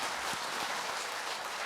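An audience at a seminar applauds, a dense, even wash of many hands clapping together at moderate, slightly distant level, sustained throughout without talk.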